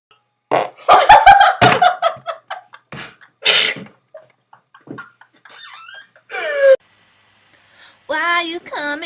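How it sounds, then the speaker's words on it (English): A string of loud, close farts from girls, some short and sputtering, others squeaky and drawn out. Bursts of voices and laughter are scattered between them. "Can I smell your fart?"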